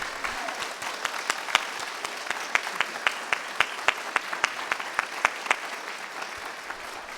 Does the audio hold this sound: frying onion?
no